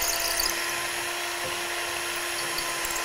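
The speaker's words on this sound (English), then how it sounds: "So just go slow and easy and let the drill bit cut." A drill bores slowly into a metal hinge barrel, making a steady, close, continuous whine with a constant pitched hum throughout and no talk.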